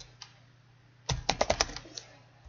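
A computer keyboard is typed on while scripting a banned list in Roblox: a quiet tap, a pause, then a quick close burst of about eight clicky keystrokes, with no talking.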